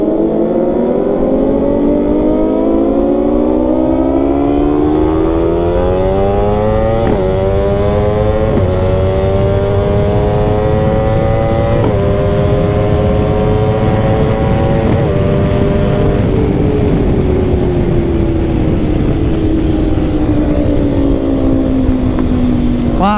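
Sport motorcycle engine, a 285cc CBR-type bike racing at night, revving high and climbing through the gears with repeated shift breaks in the whine, a loud, steady, close-up drone with no talk.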